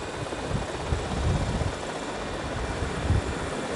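Helicopter engine in the video game GTA Vice City, a steady low rotor drone and whine holding throughout with slight pulsing swells, no talk over it.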